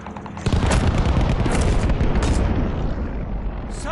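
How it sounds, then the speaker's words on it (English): A console shooter match erupts into a sustained barrage of airstrike explosions and gunfire, loud and dense from about half a second in, rumbling on continuously and thinning slightly toward the end. "Friendly sending an airstrike."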